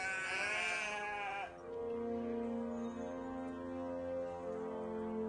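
A voice actor imitates sheep for an audio drama of Animal Farm, a wavering, quavering bleat at first, then lower sustained droning tones that continue alone at moderate volume.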